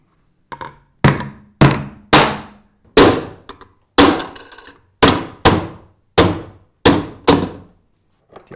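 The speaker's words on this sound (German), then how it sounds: "Alle benötigten Anschlussöffnungen werden mit einem Hammer ausgeschlagen." A hammer knocks out connection openings in a plastic Profi-Air ventilation tunnel distributor mounted on a wall, with about a dozen sharp, hollow thunks spaced at a fairly steady rhythm, loud and close, with no talking.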